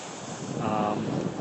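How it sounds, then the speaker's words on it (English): Surf rolling and crashing steadily onto the beach at Big Wave Bay in Hong Kong ahead of an incoming monsoon, with a constant roar and heavy wind buffeting the microphone. "these waves are really crashing in"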